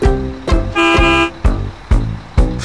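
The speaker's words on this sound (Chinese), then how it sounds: "或者用喇叭" A cartoon bus horn honks in a series of bright, toy-like toots, one longer blast followed by several short evenly spaced beeps, loud and up close with no talk over it.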